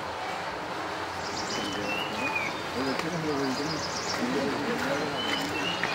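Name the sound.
birds and crickets chirping on a rainy forest trek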